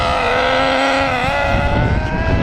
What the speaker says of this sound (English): gonna start my Nitro MT up again